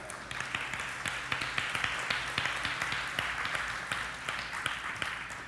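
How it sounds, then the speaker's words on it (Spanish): A church audience applauding at a bilingual sermon, a soft, thin patter of scattered claps that runs steadily for several seconds and sounds modest rather than loud. "¿Aplausos? Applause?"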